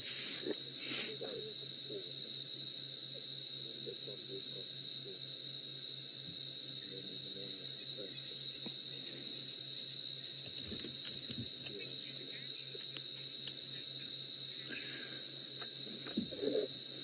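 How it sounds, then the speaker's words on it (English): Constant high-pitched insect drone of crickets and katydids at night on safari, steady and unbroken, with faint scattered rustles and distant calls in the background. "there are some crickets in the background. They also sound like there's some katydids"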